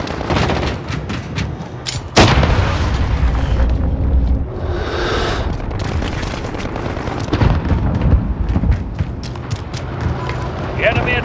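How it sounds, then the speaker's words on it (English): Heavy booms and rumbling blasts from a cruise missile strike in Modern Warfare on an oil rig map, mixed with gunfire and a voice calling out, loud and dense throughout. "Enemy cruise missile incoming."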